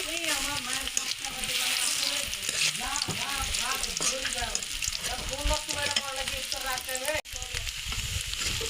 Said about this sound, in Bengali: পেঁয়াজটা একটু ভাজা ভাজা হয়ে চলে গেছে।